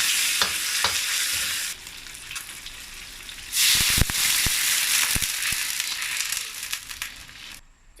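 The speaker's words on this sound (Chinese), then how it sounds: "姜末、蒜末，炒一炒，炒出香味" Minced ginger and garlic stir-fried in a wok for a lean pork and century egg soup, with a steady loud sizzle broken by repeated scraping strokes of the spatula and a brief dip in the sizzle near the end.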